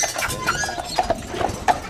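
Horses walk along a street on Mackinac Island, their hooves striking in a steady, uneven clip-clop at moderate distance, with faint background sounds beneath the hoofbeats.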